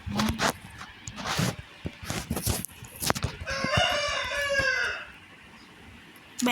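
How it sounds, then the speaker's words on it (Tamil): Chickens cluck in short bursts, then a rooster crows loudly and close by with a long, drawn-out call, followed by quieter background clucking. "கோழி தொல்லை தாங்க முடியல"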